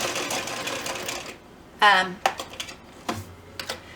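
A sewing machine stitches a small fabric chapstick holder close to its edge. A short, close burst of stitching follows a murmured opening, then scattered light mechanical clicks and taps.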